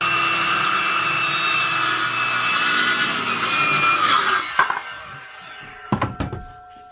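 A Hart 20V cordless circular saw whines loudly through wood on a 45-degree bevel cut for over four seconds, then spins down, followed by a few close knocks and clatters of the cut piece.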